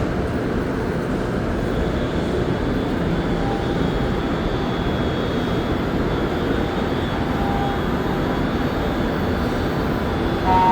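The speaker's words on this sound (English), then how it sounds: "let's get a nice view of this train leaving the station here." A Montreal STM Green Line metro train pulls out of the station on the last morning run before a transit strike: a steady, loud, broadband rumble that holds evenly from start to finish with no voices.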